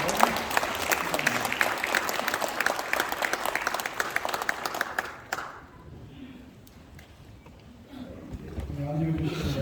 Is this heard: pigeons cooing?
no